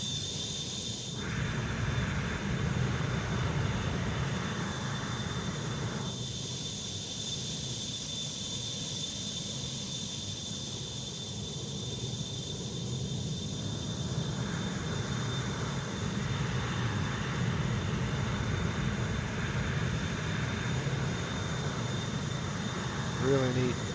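A simulated McDonnell Douglas MD-83 airliner in a flight simulator gives a steady, loud jet engine roar heard from outside the cabin, with a constant high whine over it, continuous and unbroken throughout.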